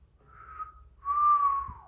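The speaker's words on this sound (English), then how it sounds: "He whistles beneath his breath." A man whistles softly under his breath in a gloomy, dungeon-like stone room: a short low note, a brief pause, then a longer, louder tone that slides gently downward.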